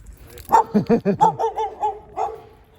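A dog barks in a quick series of short, close, voiced yips and woofs, about eight in a row that slow and fade toward the end, heard outdoors at a bayside apartment complex with bonsai trees.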